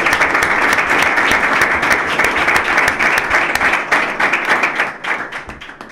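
An audience applauds at a club members' campaign presentation, with steady dense clapping throughout that tapers off slightly near the end and no talk.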